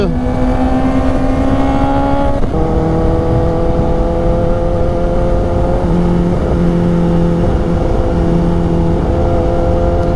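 Four-cylinder 4RR motorcycle engine on a twisting mountain road, a loud close high-pitched whine climbing through the gears with a brief shift dip, voices faint under the roar.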